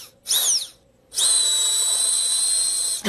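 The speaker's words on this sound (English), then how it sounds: "Who knew that I could sound like a drill when I'm sick?" A sick person makes a high, whining drill-like sound with their voice: a short rising squeal, a pause, then a long sustained piercing whine.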